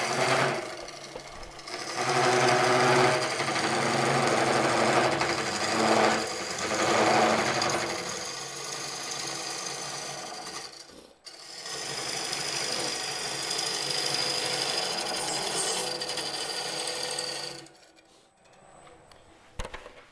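A bowl gouge taking an overly deep cut into a wooden bowl spinning on a lathe, giving a loud, harsh, continuous scraping roar in two long passes separated by a brief pause, then winding down.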